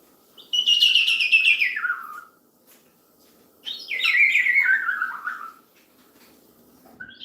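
Two long descending squawking calls from pet birds, a Moluccan cockatoo among them, each about two seconds long with a pause between, close and fairly loud in an indoor room with no talking.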